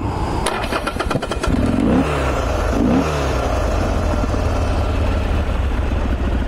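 A 2012 Harley-Davidson Sportster XR1200X's starter cranks briefly, the fuel-injected engine catches, revs up twice with rising and falling sweeps, then settles into a steady, close idle.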